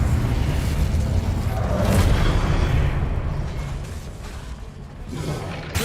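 Incendio fire spell blasts in the video game Hogwarts Legacy: a dense, roaring burst of rumbling fire and booming low-end energy that sustains throughout, loud and close, without speech.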